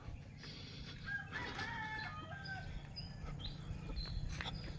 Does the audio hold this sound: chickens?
yes